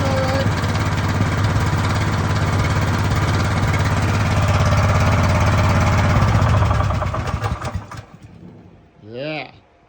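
A backhoe engine, its motor back-mounted on the machine, runs loud and steady for about seven seconds before cutting out, then a voice whoops briefly near the end.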